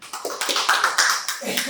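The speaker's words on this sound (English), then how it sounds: "So please give her a big applause." Audience applause welcoming a speaker to a university lecture, brief, close and uneven hand claps.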